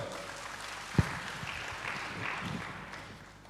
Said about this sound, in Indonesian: Yang mau memberikan tepuk tangan bagi Tuhan.